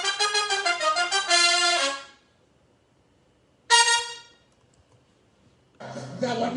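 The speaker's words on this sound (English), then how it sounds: "This is 4 trumpets, not stacked." A horn section of four trumpets plays unison and harmony lines in short bright bursts separated by silences, close and loud with no talking.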